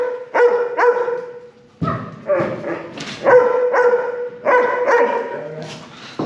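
A dog at a pet day camp barks in short, sharp repeated bursts, some in quick pairs, with brief pauses between volleys, loud and close in an otherwise quiet space.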